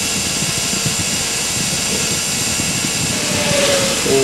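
Steady engine and road rumble inside a moving vehicle on a drive to a maternity hospital in 1998, continuous and fairly loud, with a faint rising tone near the end and no talk.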